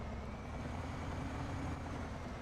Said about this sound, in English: This truck is loud, too.